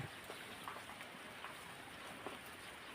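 Steady rain falls on a cold day, a continuous wash of dense drops on surfaces with a few slightly louder drips scattered through, fairly distant and even, with no voices.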